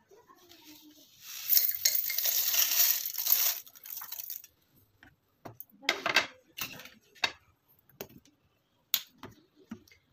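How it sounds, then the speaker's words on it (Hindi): A mixer grinder grinds whole spices for homemade garam masala, whirring loudly for a couple of seconds, followed by scattered clinks and rattles of dry spices and jar handling. "चलिए अब इसको पीस लेते हैं एक मिक्सी जार में डाल के"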